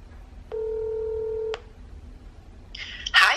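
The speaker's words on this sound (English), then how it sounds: "It's ringing." A telephone ringback tone on an outgoing call, a single steady tone lasting about a second, followed by a brief clattering noise near the end.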